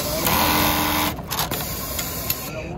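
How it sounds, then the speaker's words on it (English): A JUKI LK-1900BN industrial bartacking sewing machine runs on a trade show floor, a steady mechanical whir and rattle with a brief pause partway through, under the background hubbub of the hall. "this is the bar tagging machine with a lot of attachment"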